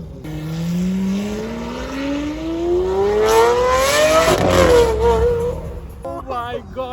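Lamborghini Aventador supercar engine revving loudly at a supercar meet in Dubai, a rising pitch climbing over several seconds to a peak, then dropping with crackles and pops, with talk at the end.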